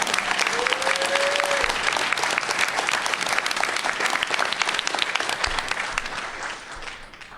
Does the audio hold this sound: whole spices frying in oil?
no